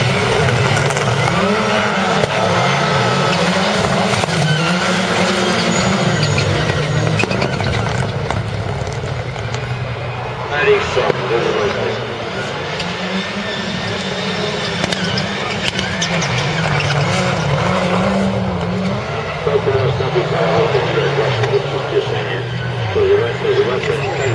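Rallycross race cars of the European Rallycross Championship at Słomczyn roar continuously through a corner at about 70–80 km/h, loud engine drone with rising and falling revs, under steady commentary.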